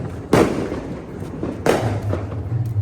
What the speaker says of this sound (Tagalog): Inaarangkada na ang kanyang mga paputok.